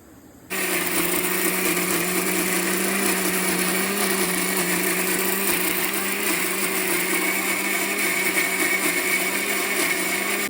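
A kitchen mixer grinder whirs steadily as it grinds green chilies, mint and peanuts for chutney, a loud continuous high-pitched motor drone starting abruptly after a brief quiet and running without pause.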